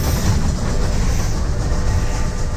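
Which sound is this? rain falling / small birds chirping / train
train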